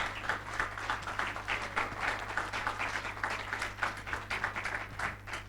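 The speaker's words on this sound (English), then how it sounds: "that was an overwhelming round of applause" Audience applause at a UX panel event, a steady stream of clapping from a modest crowd at moderate distance over a low constant hum.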